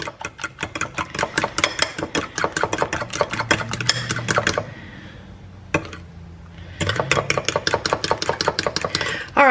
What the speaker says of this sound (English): Let's try to mix it up, see if we can get a scrambled egg effect out of it.